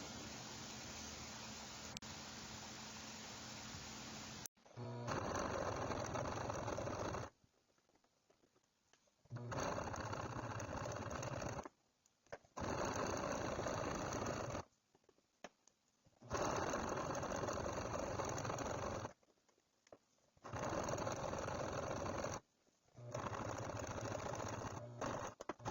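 A sewing machine stitches a throw pillow in several steady whirring runs of a few seconds each, separated by quiet pauses, close and alone.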